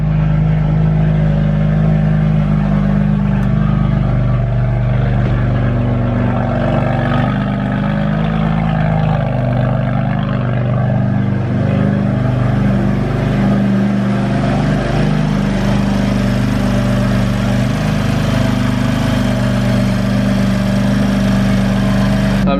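A BMW F80 M3 idles loudly and steadily after new NGK spark plugs, a deep, even rumble with no RPM surges, heard up close for over twenty seconds.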